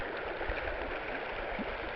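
Clear stream flowing over rocks outdoors, a steady, close rushing and gurgling of water with a few low bubbling pops, continuous and alone with no voices.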